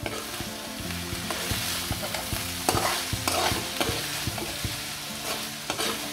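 Chicken with a spoonful of salt sizzles and fries steadily in a pan for a Tibetan syafalee dish, with a spoon or spatula stirring and scraping in regular knocks throughout, close and fairly loud, no voices.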